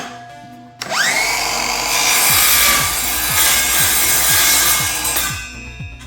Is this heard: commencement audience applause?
no